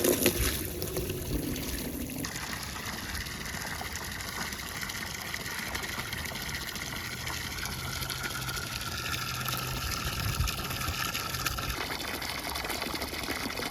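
Water pouring steadily to refill a goat's water container on a homestead, a continuous rushing gush with a faint tonal hum under it, no talking.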